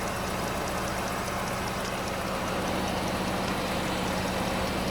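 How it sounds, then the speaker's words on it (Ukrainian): A Skoda Octavia 1.6 engine running at a steady idle, a constant close mechanical rumble with faint knocking texture and no talk. "Робота двигуна"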